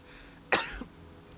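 A single sharp, close cough, one abrupt burst with a short rasping tail, heard alone against quiet background.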